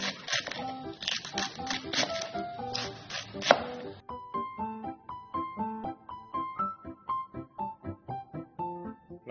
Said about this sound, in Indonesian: Kol diiris tipis-tipis.